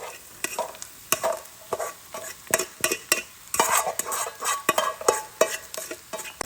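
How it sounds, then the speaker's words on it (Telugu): Rice being stirred into fried onion masala in a pan, a rhythmic run of scraping, clacking spoon strokes over a soft sizzle, close and loud with no voices. "ఇప్పుడు దీన్ని మంచిగా కలుపుకోవాలి"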